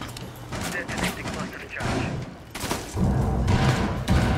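Close bursts of gunfire in the video game Rainbow Six Siege, several loud volleys of shots with short pauses between them.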